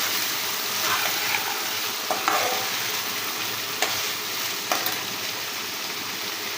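Taro stolons stirred and fried in a wok for a small-fish curry with potato: a constant close sizzle, with a few sharp scrapes and knocks of the ladle against the pan scattered through it.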